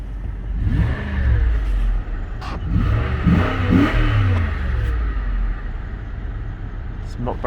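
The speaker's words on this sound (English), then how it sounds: "just listen to this V8" A 2006 Buick Lucerne's V8 engine revs hard and rumbles, its pitch rising and falling in bursts, with a voice talking over it.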